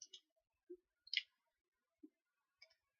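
Several sharp, dry computer mouse clicks, spaced irregularly and close by, with near silence between them and no talking.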